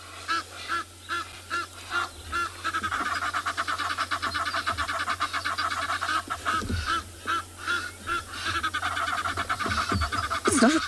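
A heron on safari in South Africa gives a loud, repeated, harsh honking call in rhythmic bursts, close and dominant over the background.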